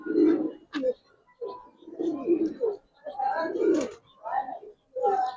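Giribaz high flyer pigeons cooing in repeated soft, throaty bursts with short pauses between, close by, a few higher chirps mixed in.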